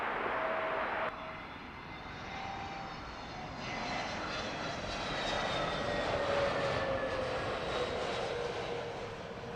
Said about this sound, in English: British Airways flight 313. That's an A320 Neo, just landed, coming in from Oman.